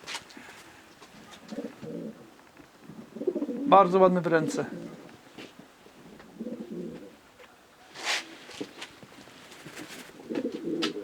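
Soft cooing from breeding pigeons in short low bursts, repeated several times, with someone talking briefly in the middle.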